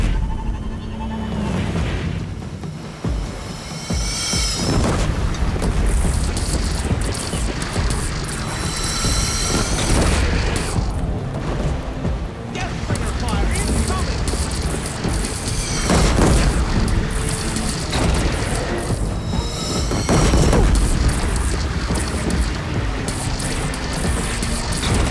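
Cannon fire in the video game Horizon Zero Dawn Remastered, with repeated heavy booming blasts over a dense, loud battle din of rumbling and clatter, and voices shouting in the mix.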